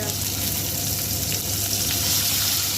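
Potato and bottle gourd leaf pieces sizzle steadily in hot oil in a pan, a continuous hissing fry with no pause and no talk over it.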